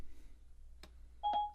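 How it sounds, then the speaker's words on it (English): Phone dialing tones from a Pioneer NEX car receiver during a Bluetooth call: a faint click, then a short steady electronic tone, heard alone over a low background hum. "And we're making that phone call."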